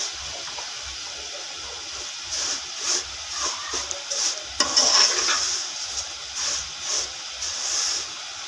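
Sawaiyan (vermicelli) lightly frying in a pan over low heat, giving a soft, steady sizzle and hiss with occasional stirring scrapes and brief louder crackles.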